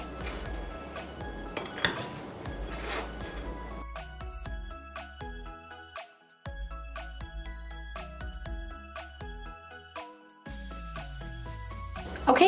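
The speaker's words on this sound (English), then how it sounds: "And now we will mix this until everything is nicely combined together." Blueberries stirred with cornstarch and salt in a bowl: a utensil clinks and scrapes against the bowl over and over in an uneven rhythm, close and fairly loud, with short pauses between bursts of stirring.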